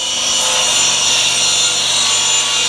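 Steady, continuous sawing through a wooden board, cutting it nearly in half to make a clamping part for a scarf joint jig; a loud, close rasping stroke runs without pause for nearly three seconds before stopping abruptly.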